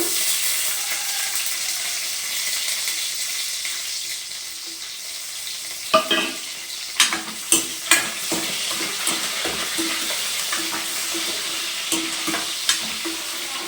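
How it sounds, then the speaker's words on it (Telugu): Tempering spices sizzle in hot oil for a bitter gourd curry cooked with jaggery, giving a steady hiss, then a run of sharp sputtering pops and clinks as they are stirred, close up. "ఇక్కడ నూనె అయితే వేడెక్కిపోయిందండి ఈ తాలింపు వేయటంలో వేసేసుకున్నాను"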